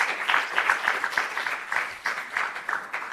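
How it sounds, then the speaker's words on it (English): A room of attendees at a university innovation showcase in South Africa applauds after a morning of project presentations, with dense, even clapping from many hands that holds steady for a few seconds at moderate loudness. "just a big round of applause to our first 4 network partners"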